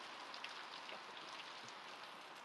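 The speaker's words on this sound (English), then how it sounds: "and as you can see, it's storming." Steady rain pours during a severe summer thunderstorm in a southeast Louisiana backyard, an even, hissing wash of drops heard alone and fairly faint throughout.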